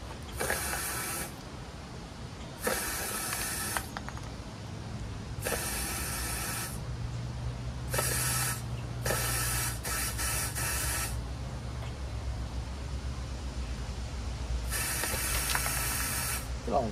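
Compressed air hisses in loud bursts through the hose and clogged radiator of a Chinese 150cc scooter during a cooling system flush, several separate blasts of varying length over a low mechanical drone, with occasional talk.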